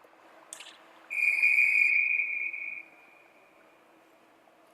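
A referee blows a whistle at an ice hockey game, one shrill, steady blast lasting under two seconds over a quiet arena murmur.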